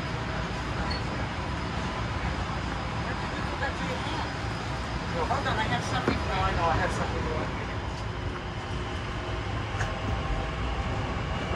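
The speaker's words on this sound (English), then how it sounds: "Oh, there goes that train." A train rumbles past at a distance, its steady roar swelling briefly in the middle before fading, with faint talking underneath.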